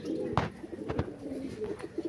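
Madrasi pigeons coo in soft, throaty rolls close by, with a few brief louder bursts breaking a steady low murmur and no voices.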